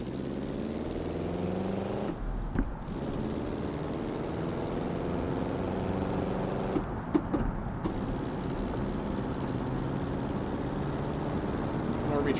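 Simulated car in BeamNG.drive launching from a standstill and driving on, a continuous engine tone whose harmonics sweep upward through gear changes, with brief breaks between shifts and someone talking over it.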